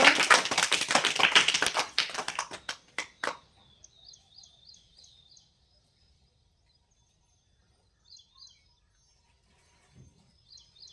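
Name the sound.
children clapping loudly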